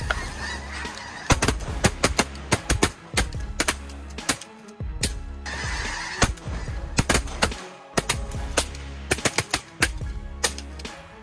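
Wild geese honk in loud, rapid bursts, many calls overlapping in choppy clusters with brief gaps between them.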